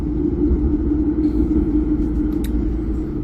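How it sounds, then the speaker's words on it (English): Riding a tram heading about ten kilometres to the end of the line in a Nordic city, with a loud, steady low rumble of the car rolling along and faint higher rattles above it. "gonna take the tram all the way to the end"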